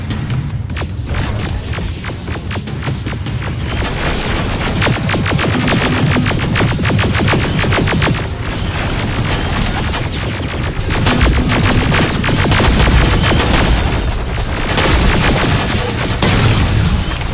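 Sustained gunfire and explosions rage through a battle in Terminator Resistance, with rapid automatic bursts and heavy booms layered into a dense, loud, continuous din, shouted commands barely present beneath the chaos.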